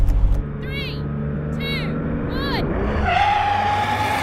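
A Ferrari SF90 supercar races hard, its engine loud and close with rising gear sweeps, then its tyres skid and squeal in a long sustained screech near the end.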